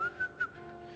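A person whistles a short, jaunty tune imitating a carefree king arriving, a few bright, quick rising notes with brief pauses between them, heard close and alone.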